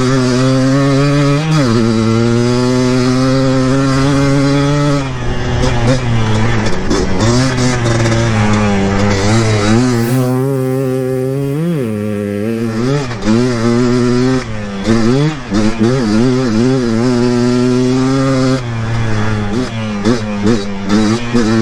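A Yamaha Blaster ATV engine screams at wide open throttle during a top-end test, a loud, close, buzzing two-stroke whine that holds high, dips briefly around the middle, then surges through repeated rises and falls in pitch.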